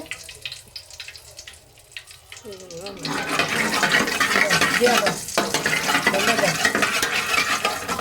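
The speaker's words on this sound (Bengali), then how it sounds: "এখন আমি জর্দা ঢাইলা দিতেছি" Zarda sweet rice is poured into a pot and stirred, a wet rushing and scraping that swells and stays steady after a quieter stretch, with a voice briefly heard in the background.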